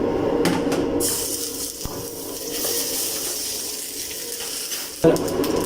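Garlic and ginger-garlic paste hiss and sizzle steadily in a little hot oil, a continuous broadband frying sound with a brief louder burst near the end.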